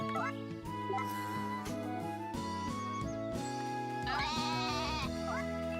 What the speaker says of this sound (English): Oh my god, the sheep, so loud.